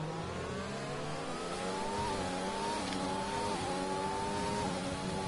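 A McLaren Formula 1 car in a racing video game, recorded at the Chinese Grand Prix, crosses the finish line with a loud, steady high-revving engine whine. The pitch climbs in stepped gear changes over about five seconds, and no one speaks.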